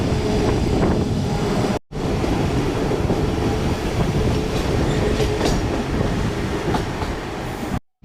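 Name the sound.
empty train passing on the main line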